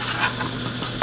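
Bagels in a pot of boiling water make a steady bubbling hiss, with a small clink at the very end.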